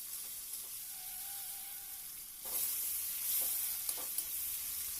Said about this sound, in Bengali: প্রথমেই চিংড়ি মাছটা ভেজে নিচ্ছি